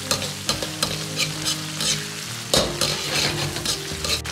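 Chili bean paste and soybean paste stir-fried in a hot wok in oil, a steady loud sizzle with rhythmic scraping and tossing of a spatula throughout, no voices.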